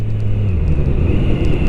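A QJ Motor SRK 921 RR motorcycle pulls hard at full throttle, its engine a loud, steady, close-up roar with wind rush and no talking.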